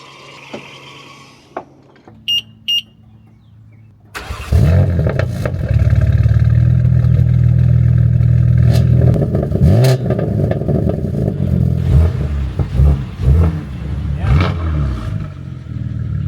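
A few quiet clicks, then a rebuilt modern BMW M3 engine cranks and starts abruptly, settling into a loud idle before being revved up and down several times.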